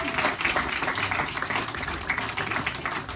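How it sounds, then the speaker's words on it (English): Applause at a comedy night for the MC, a brief stretch of steady clapping from a crowd in a room, moderately loud and continuous throughout. "I want to give a round of applause to Shalom Carr"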